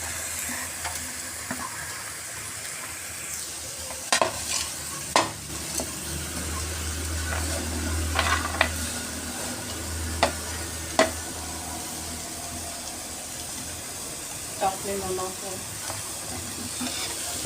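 Cashew and almond slivers stirred into carrot halwa (gajar halwa) in a pan, a low steady sizzle with repeated spoon scrapes and clinks against the pot, continuing without speech.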